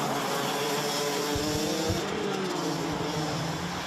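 DD2 Masters race cars at the Wittgenborn circuit, engines droning loud and continuous as they pass, with shifting pitch and a low rumble underneath.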